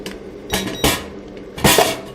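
A metal oven tray pulled from a mini vacuum sublimation heat press machine, giving three or four short clanking metallic knocks and scrapes spread over a couple of seconds, fairly close with quiet gaps between.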